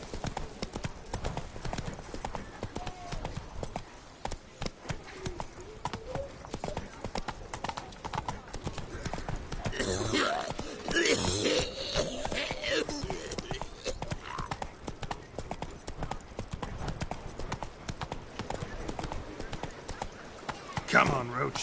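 Rhythmic clip-clop of the horse Roach galloping in The Witcher 3, continuous hoofbeats with a brief whinny midway, under voices talking.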